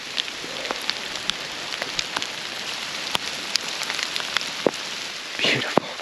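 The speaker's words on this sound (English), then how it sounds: "This rain is starting to come down all of a sudden." Sudden rain pattering onto a pine forest trail, scattered sharp drops and taps over a soft steady hiss, close by, with no talking.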